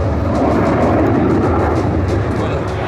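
Frecce Tricolori jets fly a barrel roll formation at an airshow, giving off a continuous loud roar that holds steady for the whole stretch.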